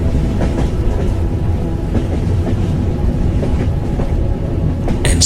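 A Swiss train rolls along its rails on a snowy journey, with a steady rumble and regular clickety-clack of wheels over rail joints, heard from inside at close range with no voices.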